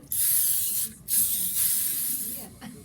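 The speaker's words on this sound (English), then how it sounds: "I'd spray the pan." Two long hissing sprays from a cooking spray can onto a pan, close by, with a short pause between them and a faint tap afterward.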